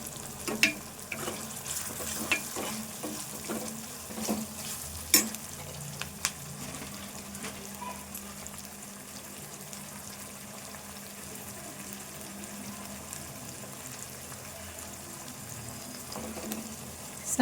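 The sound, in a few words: ginger garlic paste frying and being stirred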